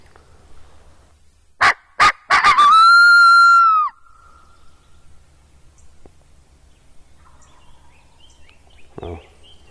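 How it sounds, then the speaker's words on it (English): A wild turkey gobbler gobbles in a loud, rapid rattling burst on public land, followed by a sharp cut-off, then quiet outdoor ambience with a faint distant call near the end. "I heard a gobble that way"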